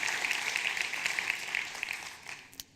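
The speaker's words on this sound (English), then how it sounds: "So give them a round of applause for their consistent action." An audience at a business success day event in Belfast gives a round of applause, steady dense clapping that thins out and ends with a couple of final claps.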